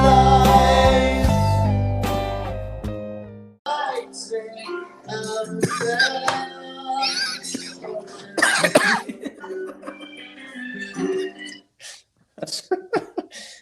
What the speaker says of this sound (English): I was using the break for a coughing fit.